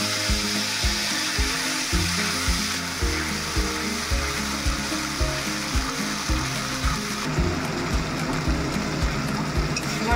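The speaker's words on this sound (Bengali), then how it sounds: "এবার আমি আদাটা একটু কষিয়ে নেবো, নাহলে পরে কাঁচা গন্ধটা থাকবে আদা।" Ginger paste with dried red chillies and panch phoron spices frying in hot oil, a steady loud sizzle with rhythmic stirring scrapes throughout, close up.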